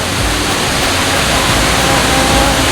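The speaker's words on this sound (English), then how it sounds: "This is Bhaktang waterfall and you can see the waterfall behind me." Bhaktang waterfall roars as a loud, steady rush of water, broadband and unbroken, heard close with no speech.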